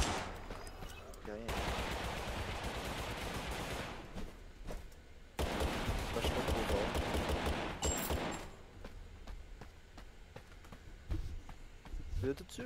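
Rapid gunfire bursts crackle through a round of Totally Accurate Battlegrounds, in two long dense volleys separated by short gaps, with scattered single shots afterward while players talk over the action.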